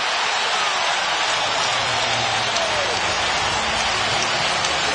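Basketball arena crowd at a 2009 Western Conference Finals Game 5 between the Denver Nuggets and Los Angeles Lakers, roaring after a dunk; a dense, loud, continuous cheer fills the whole stretch without letup.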